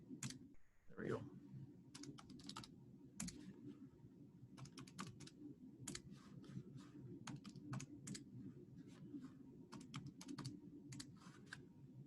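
Rapid bursts of clicky keystrokes on a computer keyboard come in irregular clusters over a low steady hum, close and fairly faint, with no one talking.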